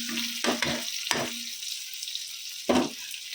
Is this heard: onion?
yes